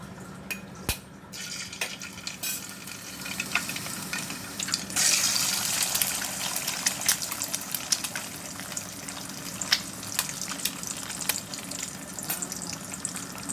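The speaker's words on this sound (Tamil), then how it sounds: "அதை ஊற்றி நல்லா முட்டையை கிண்ட போகிறான்" Eggs frying in hot oil for Maggi noodles crackle and sizzle steadily while being stirred, with occasional clicks of the utensil against the pan, close and continuous with no voices heard.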